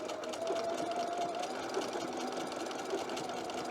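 A sewing machine runs a zigzag stitch through skirt fabric, a fast steady mechanical whirring and clatter close by that continues evenly for a few seconds with no voices.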